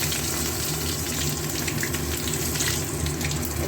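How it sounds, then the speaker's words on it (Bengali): Green chillies and black cumin sizzle in hot oil as a tempering for a snake gourd chorchori, a steady close crackling fry with no pauses throughout. "এগুলো একটু ভাজা ভাজা হোক"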